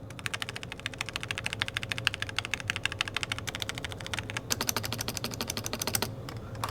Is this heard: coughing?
no